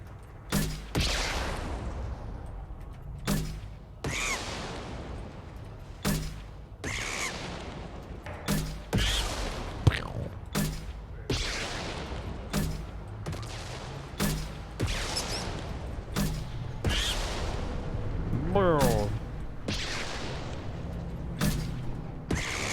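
Repeated sharp gunshots in the Mass Effect 2 video game, a dozen or more loud bursts at irregular intervals over a low background rumble, with no talking.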